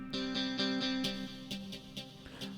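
Böhm arpeggiator playing a clean electric guitar sound, a quick repeating pattern of plucked notes with a bright, slightly effected tone, moderately quiet with no talk.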